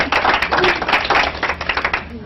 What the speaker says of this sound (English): let's give another round of applause to Liz